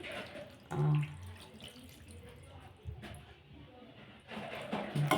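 Water pours into a pot of mutton liver curry in a home kitchen, a steady splashing stream with a few louder gushes, heard close and alone.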